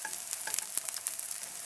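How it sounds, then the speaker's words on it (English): Eggplant pieces sauté in a pan for Provençal ratatouille, giving a quiet, steady sizzle with a few soft scrapes and light stirring clicks scattered through it, and no voices. "I just want them to be nice and sautéed"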